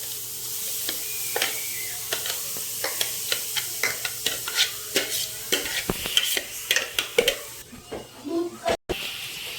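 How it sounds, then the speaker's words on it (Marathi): Grated carrot dropped into hot ghee, crackling and sizzling while a spoon stirs and scrapes the pan in quick irregular strokes, close and moderately loud, with a voice talking faintly. "आता आपण त्यामध्ये टाकणार आहोत किसलेले गाजर"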